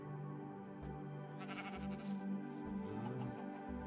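A sheep bleats in a survival video game's mixed animal pen, a few short bleats set over steady game ambience and music.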